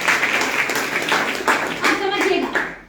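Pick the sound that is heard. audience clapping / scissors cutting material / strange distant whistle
audience clapping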